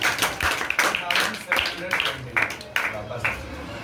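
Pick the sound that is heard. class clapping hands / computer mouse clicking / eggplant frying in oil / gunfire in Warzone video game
class clapping hands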